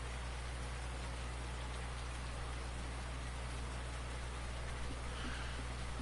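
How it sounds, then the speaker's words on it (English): Steady, dense rain pours throughout a Farming Simulator 19 career-mode rainstorm, an even broadband hiss of drops on surfaces with a constant low hum beneath and no talking. "this rainstorm is just getting us"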